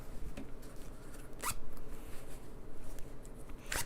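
A zipper on a small sewn notions pouch is handled up close, giving a few brief zipping rasps over a steady, noisy room background.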